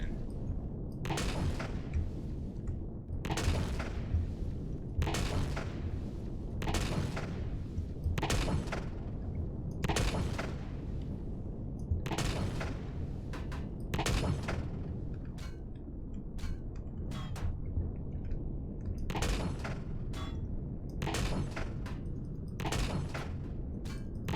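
Railgun firing in Empyrion, a series of loud, sharp blasts at fairly regular intervals of one to two seconds over a constant low rumble, with no talking.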